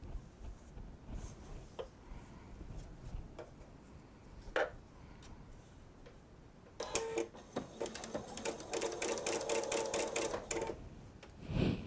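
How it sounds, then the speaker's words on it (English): After a few quiet clicks and handling sounds, a sewing machine starts up and runs in a fast, steady stitching rhythm for several seconds. "Let's go over to the sewing machine."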